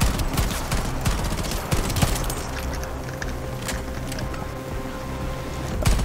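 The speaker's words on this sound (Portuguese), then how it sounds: "da onde que eu tô tomando esse tiro?" Rapid gunfire in the video game Shatterline, dense bursts of automatic shots crackling continuously with sharper individual cracks standing out, loud and sustained throughout.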